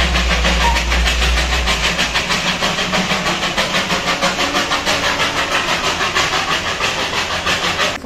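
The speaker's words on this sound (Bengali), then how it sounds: "সকাল থেকে উঠে টয় ট্রেনের আওয়াজ, বেশিরভাগই ডিজেল ইঞ্জিন" A Darjeeling toy train diesel engine runs close by, a loud rhythmic chuffing and rattling pulse with a heavy low rumble at the start that then fades back.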